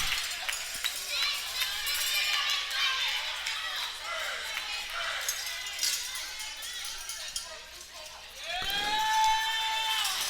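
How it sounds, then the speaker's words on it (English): Crowd noise in a gym behind a college volleyball server: a continuous murmur of voices with scattered shouts and squeaks, fairly loud throughout, and a whistle near the end. "contending with the crowd noise right behind her"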